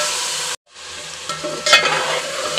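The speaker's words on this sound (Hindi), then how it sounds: "इन्हें इसके साथ भून लेते हैं" Turmeric and spices frying for an okra and meat curry, a steady loud sizzle with stirring scrapes, briefly cut off near the start, then returning with sharper clatters of the spoon against the pan.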